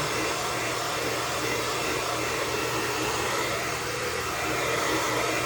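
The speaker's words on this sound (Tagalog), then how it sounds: "Gusto niya yung blower." A hair dryer blows steadily and loudly from start to finish, a constant broadband whoosh with no breaks and no voices over it.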